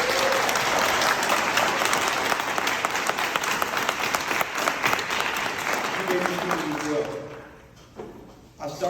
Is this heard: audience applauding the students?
yes